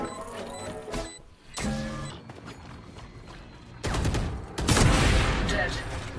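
Gunfire in the video game Valorant: several loud rapid bursts of shots with game effects and beeps in between, the heaviest firing coming near the end.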